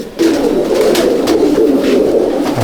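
A Kaldama pigeon pair coos close and loud in a loft, a continuous throaty, bubbling call that runs steadily for a few seconds with little else around.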